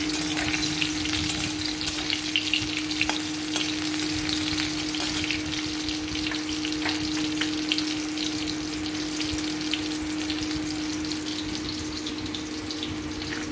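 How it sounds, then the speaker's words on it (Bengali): Hog plums and two dried red chillies fry in oil for a fish sour dish, giving a steady, close crackling sizzle with a low hum underneath and no talking. "আমড়াগুলোকে লাল লাল করে ভেজে নিয়েছি। দুটো শুকনো লঙ্কা দেওয়া হয়েছে।"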